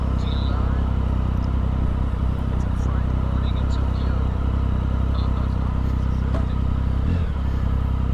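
A motorcycle rumbles through Tokyo morning commute traffic, with a loud, constant low engine drone and wind buffeting close up, plus faint clatter and surrounding vehicles under the noise.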